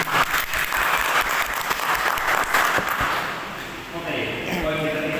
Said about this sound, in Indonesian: Berikan aplaus untuk Mas Hendro.